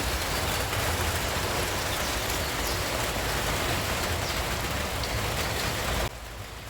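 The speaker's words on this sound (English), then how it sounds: "it started raining." Steady rain falls on a farm field, a dense continuous hiss of drops on soil and leaves, loud and close throughout, dropping slightly in level near the end.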